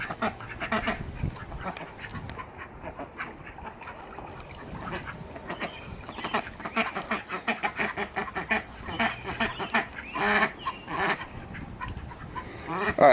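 Ducks at a pond quack in irregular bursts, some close and some further off, with quieter gaps between the calls.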